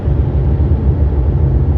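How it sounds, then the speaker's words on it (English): Loud, steady blower fan roar from the HVAC system inside a 2018 Tesla Model S 75D, a dense low rumbling whoosh that holds constant, close and unbroken, with no talking. "hopefully that'll get my blower HVAC working better, because it gets loud"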